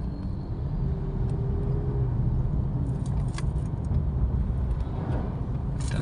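Car interior while driving in traffic in the rain, a steady low road rumble with a faint hiss and occasional small rattles and taps, with no speech.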